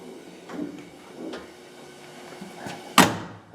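A door on a 1967 Ford pickup swings shut with one sharp, solid latch at the end, preceded by quieter handling noises from the newly installed window glass and door hardware.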